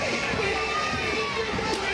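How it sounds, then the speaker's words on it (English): Wrestling crowd greeting Leon Hader, a steady hubbub of cheering and chatter from a live audience, with a commentator speaking over it. "Crowd warmly greeting Leon Hader."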